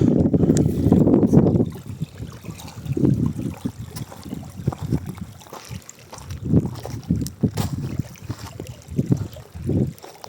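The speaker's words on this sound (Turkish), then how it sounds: "rüzgar var." Gusty wind buffets the microphone at a campsite in uneven bursts, low and rumbling, with faint water sounds underneath.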